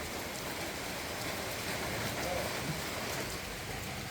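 Steady rain falls around a home, a dense unbroken hiss that fills the whole scene without pause.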